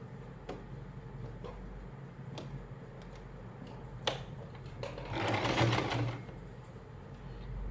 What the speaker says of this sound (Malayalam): അപ്പോൾ നമുക്ക് ഇതൊന്ന് സ്റ്റിച്ച് ചെയ്ത് കൊടുക്കാം